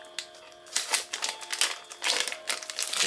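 An easy-peel lid is pulled off a package of freeze-dried chicken stir fry, giving a few bursts of crinkly, tearing plastic sounds close to the mic.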